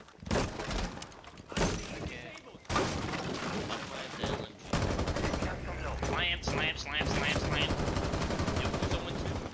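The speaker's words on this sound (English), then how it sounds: "Ward's on ping shooting at one of y'all asses" Video game gunfire cracks in repeated bursts and rapid automatic volleys, loud and close, layered under excited players talking over one another.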